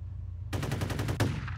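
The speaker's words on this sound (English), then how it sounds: "This gun is not accurate." Rapid automatic gunfire from a weapon in the shooter game F.E.A.R., a fast burst of about ten loud shots in steady rhythm, ending with a sharper final crack over a low constant game hum.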